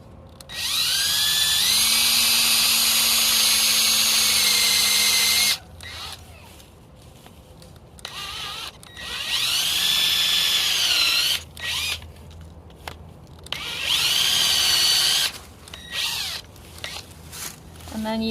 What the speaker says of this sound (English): And then you want to try to drill in and out as straight as possible.